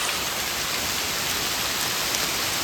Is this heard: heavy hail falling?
yes